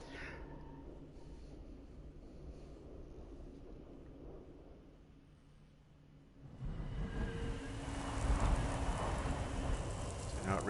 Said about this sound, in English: Gathering storm.